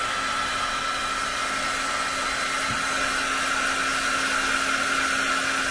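A hair dryer held a short distance from a coffee painting gives off a loud, steady whir that runs unbroken throughout.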